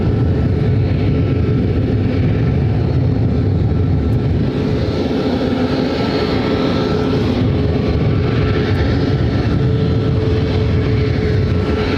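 A Southwest Airlines jet in special livery at Ontario, California airport bound for Las Vegas, a loud sustained engine roar that holds steady for the whole stretch, with no talking over it.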